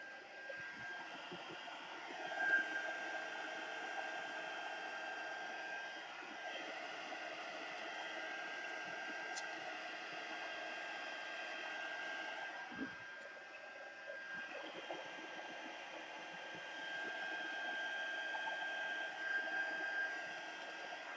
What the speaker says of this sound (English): now while our heat gun's going, remember we want to lightly heat our tape